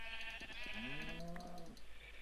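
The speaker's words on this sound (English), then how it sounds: "There's a sheep." Sheep bleating in the Minecraft video game, a drawn-out wavering bleat that stands out clearly over steady game background sound.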